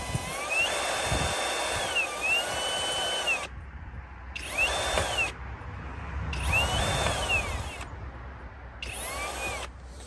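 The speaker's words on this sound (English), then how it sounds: "This is a bigger drill." A bigger power drill bores into a stripped exhaust manifold nut on a Mercedes, whining loudly and close in several separate bursts with short pauses between them, no voices.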